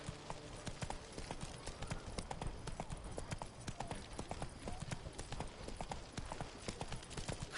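Horse hooves clip-clop in a steady, rapid rhythm in The Witcher 3: Wild Hunt, close and continuous across the whole stretch with dense repeated hoof strikes.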